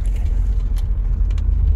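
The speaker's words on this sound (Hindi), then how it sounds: "हिल्स पे इस टाइम हम गाड़ी चला रहे हैं" Tata Harrier cruising a hill road at night, a steady low engine and road rumble droning throughout with faint clicks above, no voices.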